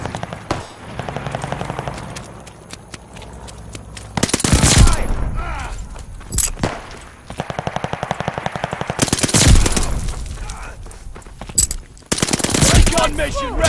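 Rapid bursts of MP40 submachine gun fire in a World War II shooter game, loud and close, several separate volleys with short gaps between them.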